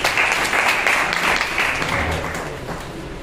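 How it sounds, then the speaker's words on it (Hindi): A hall audience at an honoring ceremony for promoted school principals claps in a loud, dense burst that gradually thins and softens toward the end. "एक बार जोरदार तालियां तो बनती है"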